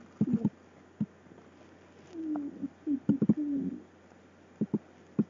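A pet pigeon-type bird coos softly nearby, a few low rolling coos mixed with short muffled taps and clicks in a quiet room.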